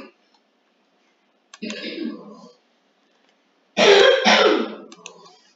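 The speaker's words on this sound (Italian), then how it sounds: "Mio fratello sta un pochino tossendo" Two bursts of coughing and throat clearing from a person nearby, a short rough one followed by a louder, longer harsh cough, separated by silence.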